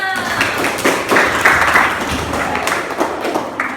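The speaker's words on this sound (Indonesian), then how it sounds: "Tepuk tangan untuk kita semua." A group claps together in a short burst of applause, steady and close, lasting a few seconds.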